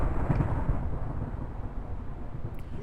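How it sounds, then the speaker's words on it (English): Loud rumbling thunder rolls on continuously for about three seconds, deep and heavy with a broad low-end roar and no talking. "This thunder is so loud."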